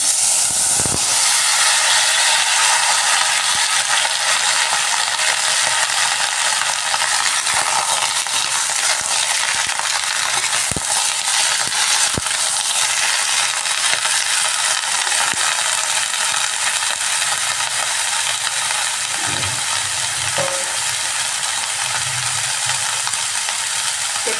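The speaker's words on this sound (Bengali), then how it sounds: "এবার আমি কেটে ধুয়ে রাখা লাউটা দিয়ে দিচ্ছি" Cut, washed bottle gourd goes into a hot pan of oil and bay leaves for a rohu fish curry, setting off a loud, continuous sizzling hiss that holds steady throughout with a few faint knocks.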